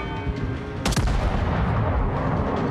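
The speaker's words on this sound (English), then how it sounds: "One salvo for aiming." A naval gun salvo booms in the World of Warships video game as one sudden, heavy blast cutting through a constant roar of ship engines and battle noise.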